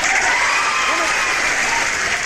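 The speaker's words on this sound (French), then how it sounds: "Moi-même, j'applaudis pour moi-même." A woman claps for herself, a dense, even patter of applause that stays loud and unbroken for a couple of seconds with no other sound over it.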